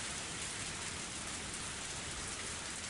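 Heavy rain in the video game Higurashi When They Cry Hou, a dense, even hiss of downpour that stays steady and fairly faint throughout, with no voices.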